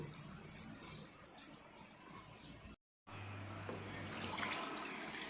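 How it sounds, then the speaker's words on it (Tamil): Water poured into a cooking pot in a home kitchen while making a Tamil tripe gravy with chana dal, a steady splashing pour that strengthens in the second half after a brief gap, fairly faint and without talk. "தேவையான அளவு தண்ணி"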